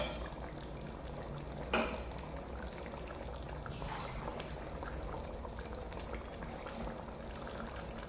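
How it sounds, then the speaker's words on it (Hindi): Water pours and bubbles into a pot of beef and potato curry over a steady sizzling, simmering background, with a brief clink near the start. "इसमें थोड़ा सा पानी ऐड करेंगे।"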